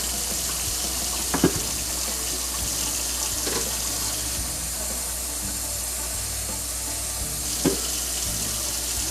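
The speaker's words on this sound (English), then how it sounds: "I don't rinse my meat off, but I do drain it." Grease from cooked ground meat for Pennsylvania-style sloppy joes drains into a kitchen sink as a steady, soft gushing pour, with a few faint clunks along the way and no talking.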